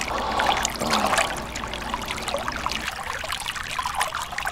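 Water trickling and splashing down a waterfall-style urinal at a Shell gas station on Cima Road, California, a steady close pouring stream with no talk.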